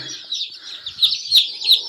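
Newly hatched, incubator-raised chicks chirping in a quick series of high, bright peeps, close by and fairly loud, with no talking.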